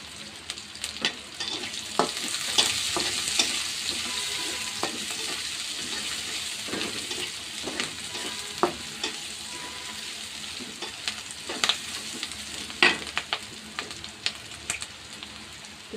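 Spice paste fries and is stirred in a pan: soft constant sizzle broken by sharp, irregular scrapes and clicks of the spoon against the metal, close and fairly quiet, with no talking.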